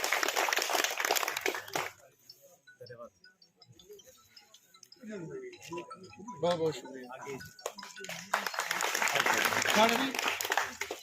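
Audience applause at an event breaks out in a loud, dense burst, then stops while someone speaks briefly, before another full round of clapping swells up near the end.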